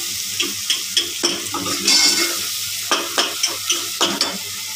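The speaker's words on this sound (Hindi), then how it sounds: "तो मैंने अब इसमें आलू डाल दिए हैं। अब मैं इसको अच्छी तरह भूनूंगी" Boiled potato pieces frying in masala for potato curry, stirred with a steady rhythm of scraping spoon strokes against the pan over a continuous loud sizzle, with no talking.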